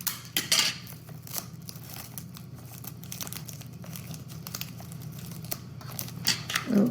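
Tape being pulled and wrapped around a tabletop water cycle setup, giving steady crinkling, tearing and rustling noises with a few sharper crackles near the start and end.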